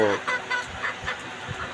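Egyptian Fayoumi chickens cluck nearby in a few short, separate calls over a quiet background.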